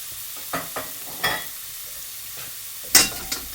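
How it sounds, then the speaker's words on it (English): Chicken pieces hitting a hot oiled wok, giving scattered sizzling bursts and stirring scrapes with quiet gaps between them, plus one sharper hiss near the end. "So I get my chicken on there."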